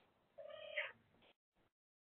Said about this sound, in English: that person who has their cat purring